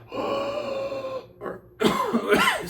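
A steady tone gives way to a brief gasp, then a burst of harsh coughing close up, several rough coughs in quick succession.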